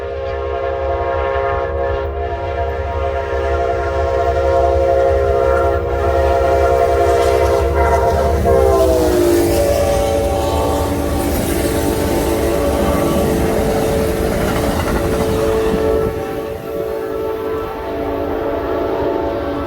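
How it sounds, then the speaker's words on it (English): An Amtrak southbound Crescent passenger train, a silver streamliner, rumbles steadily past nearby for the whole stretch, with a continuous low roar and a long sustained horn tone that bends partway through. "Here comes that silver streak, Amtrak 19,"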